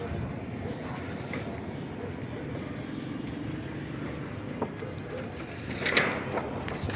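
Domestic pigeons at a rooftop loft in Imbaba, Cairo, cooing softly in the open air, faint against steady outdoor background noise.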